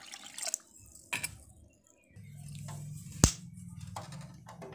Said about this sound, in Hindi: इसमें हम 4 गिलास पानी डालकर इसे घोल रहे हैं